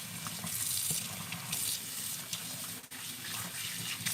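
Tap water runs steadily and close by while shampoo is rinsed out of hair before blow drying, a continuous broadband splashing hiss with small fluctuations and no talking.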